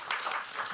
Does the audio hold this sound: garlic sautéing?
no